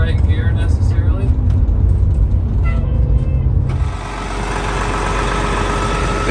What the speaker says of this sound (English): These 60 series Detroits are loud.